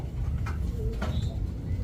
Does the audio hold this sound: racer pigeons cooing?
yes